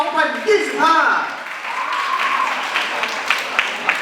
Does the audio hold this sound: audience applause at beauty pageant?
yes